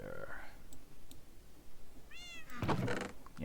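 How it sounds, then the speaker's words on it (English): A house cat meows close by, a short rising call followed by a louder clatter of knocking and clicking, with quieter sounds between. "Yes, and a meow to you too."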